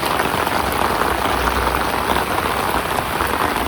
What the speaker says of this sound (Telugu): సో రెయిన్ అయితే ఆగలేదు, లైట్గా అలా పడుతూనే ఉంది